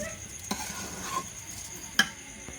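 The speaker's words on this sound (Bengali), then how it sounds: "মশলার সাথে চাউলটা ভালোভাবে মিশিয়ে দুই থেকে তিন মিনিট ভেজে নেব" Intermittent scrapes of a spoon stirring rice with spices in a pan for egg biryani over a faint steady sizzle, with three sharp clinks spaced through the clip.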